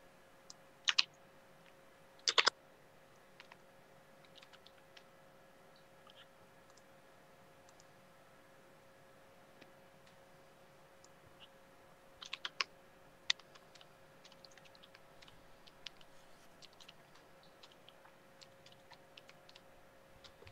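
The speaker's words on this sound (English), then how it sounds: "the effects of typing when someone is watching you are apparently just multiplied a gazillion times" Typing on a computer keyboard while writing code, with sparse, irregular clicks and a few louder clustered keystrokes over a steady faint hum, close and quiet with no talking.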